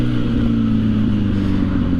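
A 2006 1000cc sportbike's exhaust rumbles steadily and loudly throughout, a deep, even engine drone with a low throbbing note and no pauses or changes in pitch.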